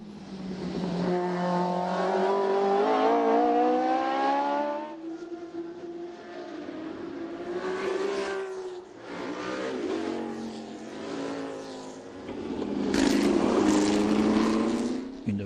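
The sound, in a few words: 1970 Ligier JS3 race car at Le Mans Classic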